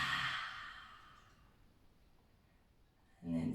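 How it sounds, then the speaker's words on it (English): A forceful lion's breath yoga exhale with the tongue out bursts out as a long, breathy whoosh that fades into quiet before another sharp breath near the end. "Lion's breath, stick out the tongue. Deep breath. Exhale."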